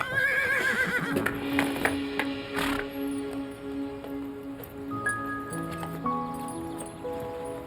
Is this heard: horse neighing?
yes